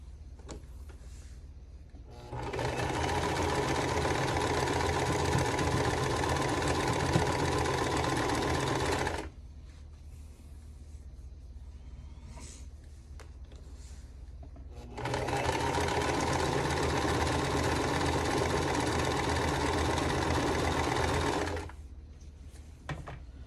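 A sewing machine runs in two long steady bursts, stitching quilt block seams for a vintage-style quilting bee block, with a quiet pause between runs and no talking.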